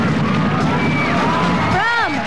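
A studio audience at the 2000 Digital LG Quiz grand finals applauds and cheers for a high school quiz contestant, a steady wash of clapping and crowd noise with a voice speaking over it.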